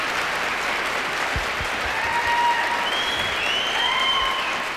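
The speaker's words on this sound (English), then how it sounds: "Can we have a special round of applause?" A large audience claps steadily in sustained applause, with a few whistles rising above the crowd.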